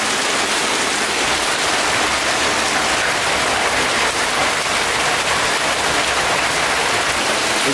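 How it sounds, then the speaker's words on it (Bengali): Heavy monsoon rain pours onto a rooftop and yard where runoff from the roofs has dug a hole, a loud, dense and unbroken roar of falling water throughout. "দারুণ বৃষ্টি হচ্ছে।"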